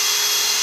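DeWALT SDS drill running on a Harbor Freight Hercules battery, a brief, loud, steady motor whine up close.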